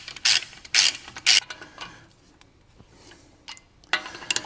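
Torque wrench checking the bolt on the bottom of a shock on a BMW M2 CS, heard as a few loud close ratcheting bursts followed by quieter clicks and mechanical creaks.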